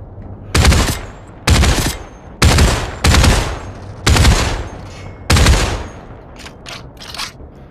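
Bursts of gunfire from a weapon in the VR shooter Population One on a city map, six loud rapid-fire volleys spaced about a second apart, followed by several quieter, fainter shots.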